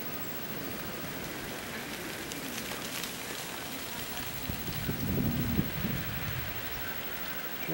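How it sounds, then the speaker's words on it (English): Wind blowing steadily through a January snowstorm, a broad continuous outdoor rush with a slight swell near the end, no voices. "Wind's blowing somewhat."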